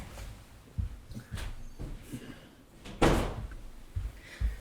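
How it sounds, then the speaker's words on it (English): A door being shut indoors makes a handful of thuds and bumps, with a louder closing thump near the middle and softer knocks after it, all fairly close with no talking. "let me shut the door."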